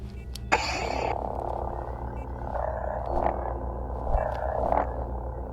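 A toy lightsaber set to volume 5 ignites with a bright burst, then holds a steady loud electric hum that swells in a few brief surges, heard alone up close.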